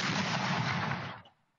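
A Soviet-era Nona self-propelled mortar system fires one loud, booming shot with a long rumbling roar that dies away over about a second, with no voices.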